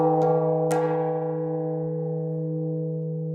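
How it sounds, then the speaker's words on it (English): A scale model bell about four feet across rings out with two close strikes, then a long, rich, humming decay that fades slowly and stays clear and loud throughout. "In the middle of it will be a big bell, for which this here is the scale model."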